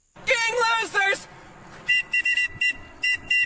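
Short sharp whistle blasts are blown in a rapid series of about six toots, loud and close, following a stretch of shouting voices.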